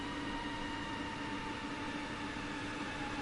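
A Leipzig rapid transit train in Train Sim World 2 rolls along with a steady, even rumble and faint hum, a constant moderate noise with no distinct braking squeal standing out.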